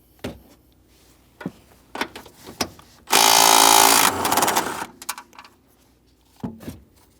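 A 14mm socket loosening rear strut mounting nuts on a 2007-2017 Mitsubishi Lancer 2.4L: scattered sharp metallic clicks and knocks, then a loud one-second burst of power-tool whirring followed by a rougher fading run, and a few more clicks.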